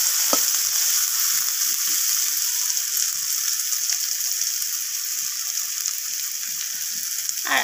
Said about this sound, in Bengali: তো আলুটাকেও পেঁয়াজের সাথে এইভাবে নাড়াচাড়া করে আমি ভেজে নিচ্ছি।